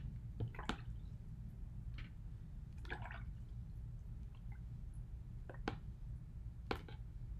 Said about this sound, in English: let me get some more water in here.